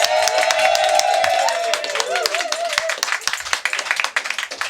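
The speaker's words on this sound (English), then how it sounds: "I want to hear a huge round of applause for the Marlborough." Lively crowd applause and cheering in a Brighton pub at a book launch, loud clapping with whoops and voices over it, thinning slightly toward the end.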